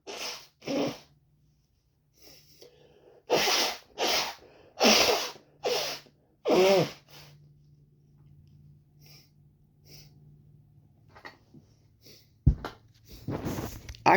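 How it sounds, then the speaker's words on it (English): A person blows and snorts their nose in a series of sharp, forceful bursts close to the microphone, separated by quiet pauses, with a low background hum. "Let me blow my nose in."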